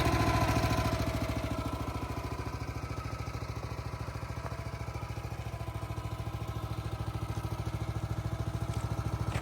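SplitForce SF-9 towable log splitter engine idling steadily with a fast chugging pulse while the carburetor runs out of gas, close and continuous.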